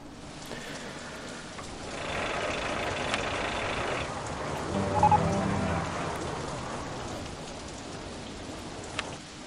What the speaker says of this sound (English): Rain time.